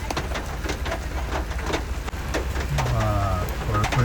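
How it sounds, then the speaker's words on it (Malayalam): Heavy rain falls with a dense, steady hiss, and a low tonal sound rises briefly near the end. "നല്ല മഴയാണ്"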